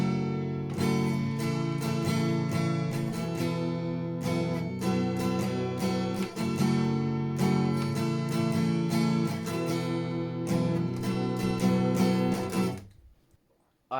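An acoustic guitar strums the verse chords of a song in a steady up-and-down pattern, loud and close for about twelve seconds before ringing out into silence, with no voice.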